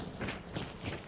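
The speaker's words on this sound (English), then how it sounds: "Ignore the horse." Horse hooves clip-clop in a steady rhythm in the video game Hunt: Showdown, faint and muffled, with no talk over them.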